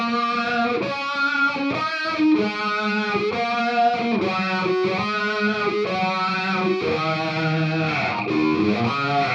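An electric guitar plays a sustained, distorted riff through a Fractal FM3 with formant and wah effects engaged, giving a vocal, talking quality to the chords across steady strums.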